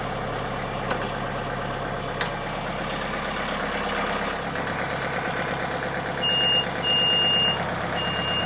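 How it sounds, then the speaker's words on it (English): A John Deere 110 TLB tractor idles with a steady low engine rumble, and partway through its reversing alarm starts up, a series of loud evenly spaced high beeps over the engine, no voices. "Yep, I'd get rid of the beeper."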